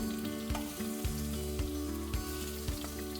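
Bear meat searing in olive oil in a pan, a loud dense sizzle with regular thumps and scrapes every half second or so as the pieces are moved.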